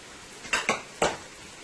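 Garlic, onion and scallion tossed in oil in a pan, heard as three sharp metallic clanks of the pan and utensil in quick succession, close and fairly loud against a quiet background.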